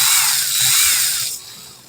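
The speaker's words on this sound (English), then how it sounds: "I put my drill in reverse too." A power drill running in reverse gives a loud high whine that holds for over a second, then winds down quickly into a fading hum.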